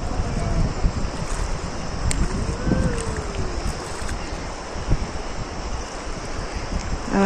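Someone wading across a river on foot in slippery sandals, with rushing, splashing water and gusty wind noise buffeting the microphone close up.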